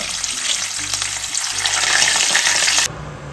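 Eggplant frying in hot oil, a loud continuous crackling sizzle that swells slightly and then cuts off abruptly near the end.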